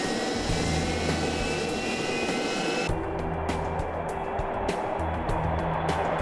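A Gulfstream jet aircraft used by NASA for flight testing gives off a loud, steady engine roar with a sustained high whine, continuous and close throughout.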